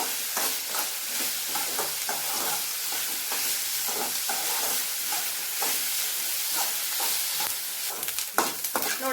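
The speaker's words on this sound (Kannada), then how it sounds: "ಸ್ವಲ್ಪ ಒಂದು ಎರಡು ನಿಮಿಷ ಇವುಗಳನ್ನು ಹುರ್ಕೋಬೇಕು" Chopped capsicum stir-fries in a pan for a masala, a continuous crackling sizzle broken by repeated scraping stirs at an uneven rhythm, close and fairly loud with no talking.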